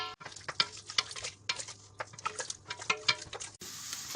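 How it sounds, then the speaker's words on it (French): A sauce for blanquette de veau is stirred in a pan. A close, brisk rhythm of spoon scrapes and soft clicks repeats steadily for a few seconds. "Donc on mélange bien."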